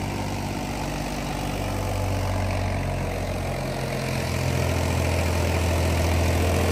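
Mahindra tractor engine running steadily while driving a rotavator with new blades through wet, rain-soaked field soil, a continuous loud low rumble that holds at near-constant level throughout.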